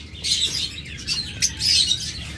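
An albino pair of pet birds at a bird sale chirps in bright, overlapping bursts close by, with a few soft wing flutters.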